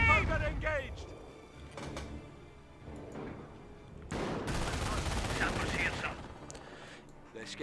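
Scoped rifles firing during a Company of Heroes battle, loud sharp cracks and bursts of gunfire scattered through dense combat noise with explosions, under a commentator's voice.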